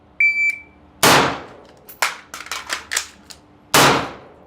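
Sharp pistol shots from an SAS-style combat shooting drill with a reload, fired in uneven bursts: one early report, a big crack, a quick string of about six rapid shots, then a final loud shot, each ringing out briefly.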